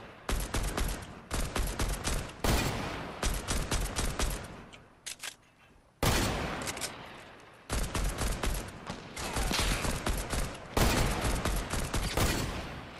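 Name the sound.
gunfire in video game Fortnite Battle Royale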